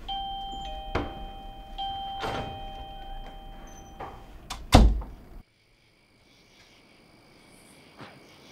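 A shop door shuts with one loud, sharp thud against faint shop background and a ringing chime tone, then the room falls almost silent.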